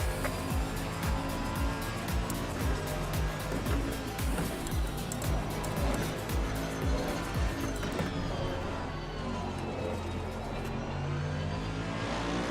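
GT3 race cars in Assetto Corsa Competizione close in and sweep past during an endurance race. Engines rise and fall as they rev through gear changes, tires squeal briefly, and the noise carries on continuously for several seconds.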